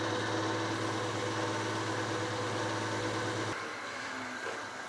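A wood lathe spinning a small turned handle runs as a steady, dense mechanical whir with a constant hum, then its pitch and texture shift slightly near the end as the speed changes.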